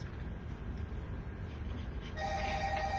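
A cell phone rings at home, a steady electronic ringtone that starts partway through over a low background rumble, moderately loud with no talking.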